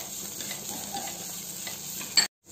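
Grated chayote (challe kai) mixed with coconut fries in a pan with a steady sizzle and scraping stirs, ending with a sharp clatter before cutting off.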